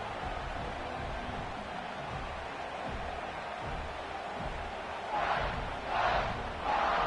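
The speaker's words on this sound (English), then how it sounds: "this crowd is buzzing after that last score" A stadium crowd in an NCAA football video game, a broad steady roar of many voices that swells in a few louder surges toward the end, distant and continuous.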